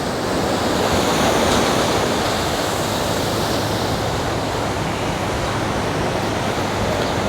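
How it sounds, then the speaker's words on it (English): Ocean surf breaks and washes steadily onto Folly Beach, a broad, continuous roar with wind buffeting the microphone, loud and close, with no one speaking. "This beautiful beach."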